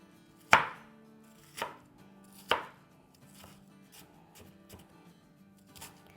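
Vegetables are chopped small with a knife on a board: three sharp, loud chops spaced about a second apart, then a run of lighter, quicker taps, with no talking.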